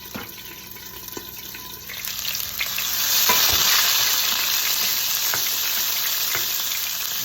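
Tomatoes fry in a pan over a flame, giving a steady wet sizzle that swells louder about halfway through and then holds, close and alone with no talk.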